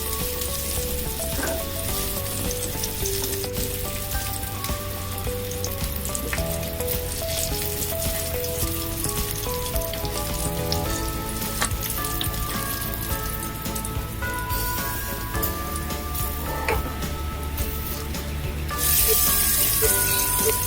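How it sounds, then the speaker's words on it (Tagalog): Onion and garlic sautéing in hot oil in a skillet for chicken afritada, a steady close crackling sizzle with no talking and a brighter burst near the end. "In the same skillet with oil, saute the onion and garlic until aromatic and limp."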